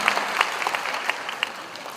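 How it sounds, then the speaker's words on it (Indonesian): A small audience at a panel discussion in Indonesia gives a brief round of sparse, crisp applause, individual claps standing out for a couple of seconds. "So tepuk tangan sekali lagi untuk panel kita yang luar biasa."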